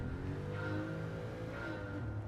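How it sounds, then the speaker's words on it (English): A Carrera engine swapped into a car in Gran Turismo 7 holds a steady, loud game engine drone with rising and falling tone, heard alone without talk. "that sound of the Carrera engine"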